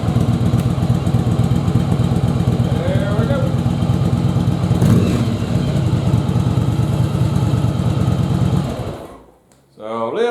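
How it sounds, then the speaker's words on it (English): A Yamaha Virago XV1100 motorcycle engine runs after a carburetor rebuild, giving a close, loud, steady rumbling idle that cuts off abruptly near the end. "so we got our carbs put back on after the rebuild, and so now we'll fire the bike up"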